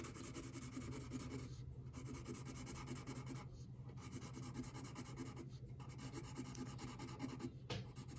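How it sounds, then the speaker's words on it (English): Pencil strokes scratch on paper while cross-hatching a drawing of a spherical object, a soft steady rasping repeated in runs of about two seconds, each ending as the pencil lifts off, quiet and close with no talk. "I am not holding my pencil pressed against the paper all the time."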